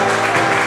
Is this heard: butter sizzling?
no